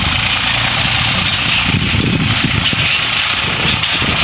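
A loud, steady diesel tractor engine rumbles close by while pulling a field roller, a constant drone with wind buffeting in the background.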